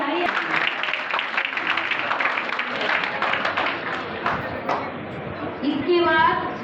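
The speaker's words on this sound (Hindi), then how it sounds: "तालियां बच्चों के लिए रुकनी ही नहीं चाहिए, तालियां रुकनी नहीं चाहिए" An audience claps for children at a prize distribution ceremony held in a guest house, a steady round of applause with sharp individual claps, and a voice speaking over it toward the end.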